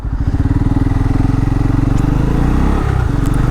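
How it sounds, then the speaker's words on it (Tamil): A Bajaj Pulsar N250 motorcycle's exhaust pulses rapidly and loudly while riding, a close, throbbing single-cylinder beat that stays steady and then rises slightly in pace. "எக்ஸாஸ்ட் நோட் செம்மையாக இருக்குது."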